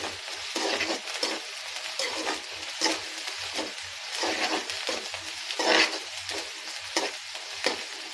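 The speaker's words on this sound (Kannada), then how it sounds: "ಹಸಿ ವಾಸನೆ ಹೋಗೋ ತನಕ ಹುರ್ಕೊಳ್ಳಿ." Onions fry in a pan for vegetable fried rice, a continuous crackling sizzle broken by repeated scraping strokes and light clatter as they are stirred.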